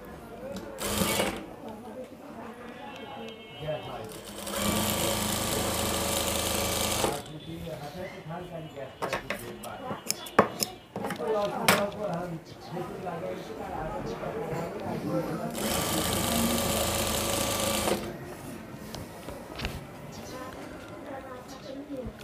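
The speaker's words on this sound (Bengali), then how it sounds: "এখন এটাকে ঘোরায় ধইরা সেলাই দিতে হবে।" Sewing machine stitching a panjabi in bursts, with loud runs of steady mechanical whirring separated by quieter handling clatter, alongside talk.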